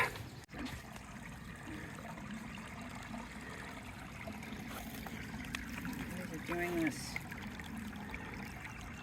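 Stream water flowing beside the Appalachian Trail, a soft continuous trickle and babble heard close by, with a hiker speaking briefly over it partway through.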